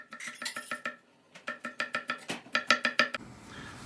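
A knife chops carrots rapidly on a cutting board, a quick run of crisp, even taps, a short pause, then another steady burst of chops close by.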